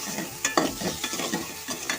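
Vegetable curry cooking on a village stove gives a close, steady sizzle with repeated scraping stirs of a spoon in the pan, no voices over it.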